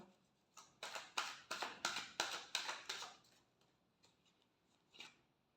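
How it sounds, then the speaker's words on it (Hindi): Tarot cards get a final shuffle, giving a quick run of about eight crisp riffling, rasping bursts up close. A short pause follows, then one more soft flick. The sound is quiet and has no talk over it. "last shuffle"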